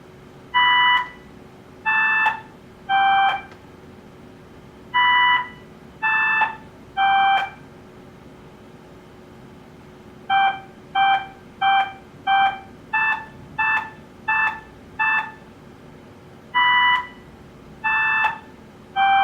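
Hot Cross Buns played on a digital recorder in a karate-themed video game's freestyle dojo, with clean electronic beep-like notes repeating the familiar three-note phrase and faster runs over a steady low hum, no voices.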